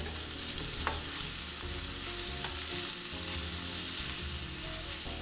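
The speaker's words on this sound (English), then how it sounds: "I'm going to add that sausage back into the skillet and we'll just let all those flavors blend for a while." Sausage and onions sizzle steadily in a skillet for pumpkin pasta, a constant bright frying crackle with a few light utensil taps.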